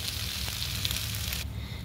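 Hot water poured into a pan of frying fish, giving a steady loud sizzle throughout that turns to a softer, bubbling hiss near the end.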